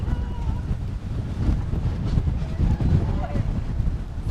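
Strong wind in Yokohama, Japan buffets the microphone with a constant loud rumble, and faint voices sit under the roar.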